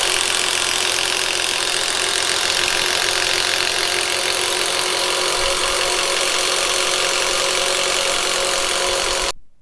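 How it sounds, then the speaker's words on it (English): A Makita hybrid hammer drill spins a 1/2 inch Diablo spade bit with a steady, loud, high-pitched motor whine that runs evenly for several seconds and then cuts off. "and it spins it. 1/2 inch Diablo spade bit."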